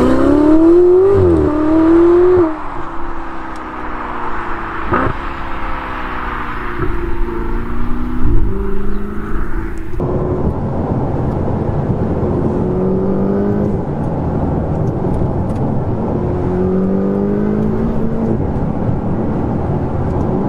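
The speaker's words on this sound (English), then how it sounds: "I'm falling in love with the turbo sound." A powerful turbocharged Ferrari 488 GTB engine revs and accelerates loudly, pitch climbing through gear changes, then settles into a steady roaring drone.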